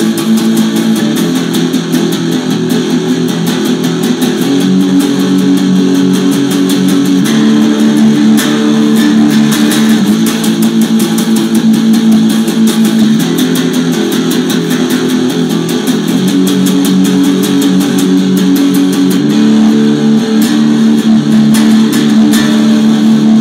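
Rhythm guitar strummed through the 7-2-4-0 chorus pattern of a song, a steady, loud run of chords with repeated strums and no talking.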